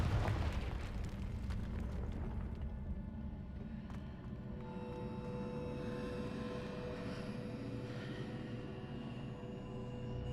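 A broad rumbling blast from the Confringo fire spell in Hogwarts Legacy, a dense roar that settles into a sustained low crackling wash with faint tonal game ambience, moderately quiet, with no voices.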